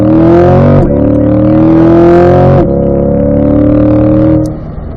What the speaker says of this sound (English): We're going to go third, fourth, fifth down the straightaway.